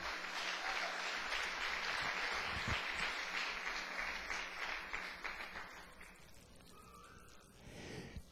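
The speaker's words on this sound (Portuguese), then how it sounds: "Uma salva de palmas para o Senhor Jesus." A church congregation applauds in a long, dense wash of clapping that fades toward the end, with a few voices and cheers mixed in.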